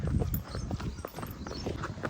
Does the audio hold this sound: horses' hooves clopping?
yes